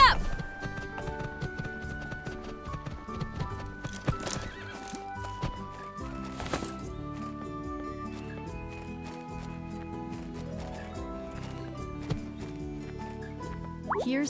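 Horse hooves clip-clop steadily in the PC game Horse Club Adventures 2: Hazelwood Stories, with a whinny or two over a constant musical backdrop, close and clear throughout.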